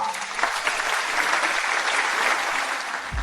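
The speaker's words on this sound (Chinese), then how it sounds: "让我们用掌声有请贾厂长夫妇上台讲话。" An audience at a school ceremony applauds loudly and steadily for a few seconds, many hands clapping in a continuous wash of sound.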